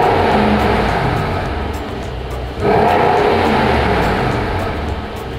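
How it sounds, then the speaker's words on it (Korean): A Mercedes-Benz S63 AMG 4MATIC+ W222 sedan rumbles loudly up close with a deep, steady exhaust note, then a sharp rev surges midway and holds a stronger growl. "이 차량 배기음 들어볼게요"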